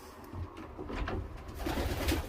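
Pigeons coo softly in a loft, giving low, repeated murmuring calls with faint rustling around them. The sound is quiet and close.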